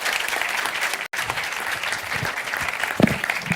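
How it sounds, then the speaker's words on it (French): Conference audience applauding in a sustained, even round of clapping from a large room, with a brief dropout and a faint voice near the end. "Et je vous propose un applaudissement, des applaudissements soutenus pour Chloé et toute sa préparation."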